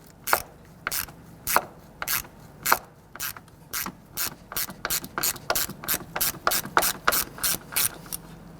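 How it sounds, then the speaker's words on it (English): Hand ratchet clicking in quick bursts while loosening 10mm nuts on the rear arm of a 2006-2012 Toyota RAV4, about twenty sharp close pawl clicks, steady and clear with no talk. "So I want to go ahead and loosen and remove all of the nuts on those there."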